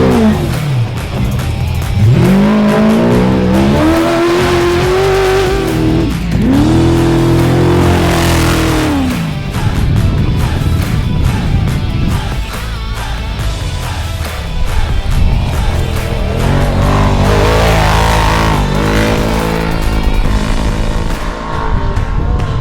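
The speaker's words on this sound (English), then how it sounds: "this truck sounds sick" Off-road race truck engine at the NORRA 500 in Baja, loud and close, revving hard in rising and falling sweeps as it accelerates and passes, with sustained roaring throughout.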